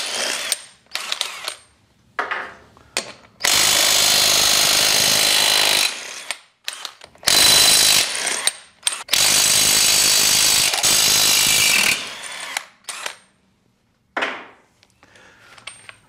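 Makita impact gun removing wheel nuts on a Land Rover Defender, loud, close bursts of harsh rattling hammering lasting a few seconds each, separated by short clicks and near-silent pauses.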